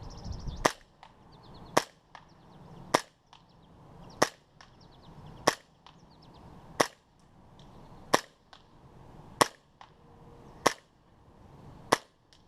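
An ASG CZ P-09 airsoft pistol fires about ten sharp, evenly spaced cracks at a whiteboard indoors, each a loud snappy pop with short gaps between shots.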